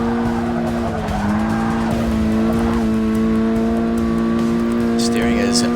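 Ford Focus ST racing in Forza 6, a loud steady engine drone with gear shifts and brief tire squeal, a voice talking over it.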